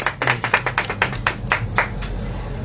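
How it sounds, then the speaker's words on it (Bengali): A small group clapping at a beauty parlour academy's opening ceremony, a short burst of fairly close, distinct hand claps that quickly thin out and fade into a quiet room. "হ্যাঁ, সবাই একটু হাততালি।"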